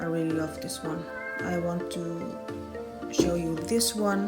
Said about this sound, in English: I have to let the kitty out because it's meowing.